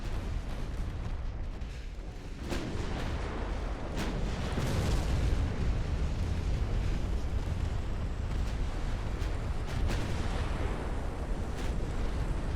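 Explosions and torpedo hits from a naval battle in the Ultimate Admiral: Dreadnoughts video game rumble constantly, with booming blasts piling up over a dense, roaring background.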